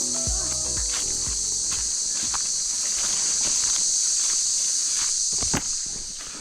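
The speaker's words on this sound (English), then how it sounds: "Cicadas." Cicadas in Northern Territory bushland on a long wilderness hike make a steady, loud high-pitched buzz throughout, with footsteps crunching along the track in the foreground and no talk.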